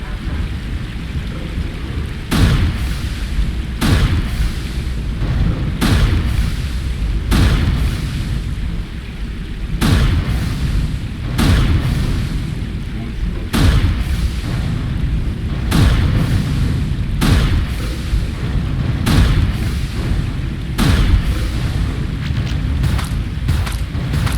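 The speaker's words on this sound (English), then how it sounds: "Firing little blue dispersion looking bolts at the missiles, destroying them as they fly in towards us" A sci-fi shooter's weapon rapidly fires dispersion bolts at incoming missiles, setting off a steady series of loud, booming explosions. The deep thuds and blasts repeat roughly every second with a rumbling background between them.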